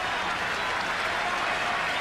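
Tennis spectators clapping steadily during the 1987 WCT Finals in Dallas, as McEnroe stirs the crowd ahead of a break point; a dense, continuous wash of applause fills the arena at full volume.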